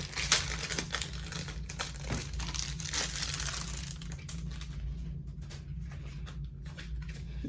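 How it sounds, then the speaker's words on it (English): Plastic wrapping is peeled and crinkled off a journal by hand, a close, busy run of crackling and crumpling that thins into sparser rustles toward the end. "Let me take this plastic off real quick"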